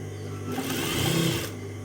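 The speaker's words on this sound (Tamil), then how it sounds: "அதுக்கும் கண்டினியூவாக சாரீக்கு ஃபால்ஸ் அடித்து விட்டாச்சு" A sewing machine stitches a fall onto a saree, its fast mechanical whir rising for about a second before stopping, close and clear over a low background hum.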